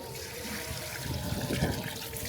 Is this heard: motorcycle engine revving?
no